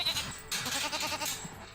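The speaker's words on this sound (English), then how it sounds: "a complaint about loud goats in rural Maple Ridge baffles the local farm community" Goats on a rural farm in Maple Ridge, British Columbia, bleat loudly and close by in a few wavering, nasal calls that overlap one another, with no talking.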